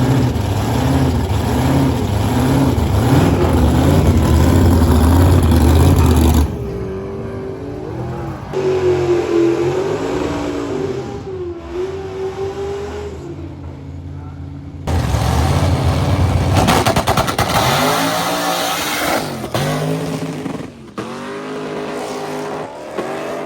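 A stick-shift drag car launches hard down the strip with a loud engine roar, then a quieter stretch of rising gear-change pitch, then a second loud burst of engine noise, all without talk.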